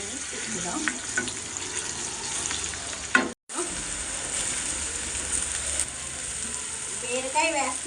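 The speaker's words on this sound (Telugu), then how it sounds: "బీరకాయ వేస్తున్నాను ఫ్రెండ్స్" Ridge gourd goes into a hot pan with chili powder, garlic and turmeric for a mutton curry. A busy, close frying sizzle with stirring rattles runs throughout, broken by a brief dropout midway.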